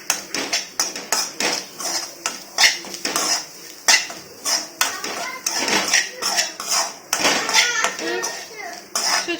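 Tutti frutti being mixed into coconut filling in a pan with a spoon, rapid repeated metal clanks and scrapes in an irregular rhythm, close and clear, with some speech in the background.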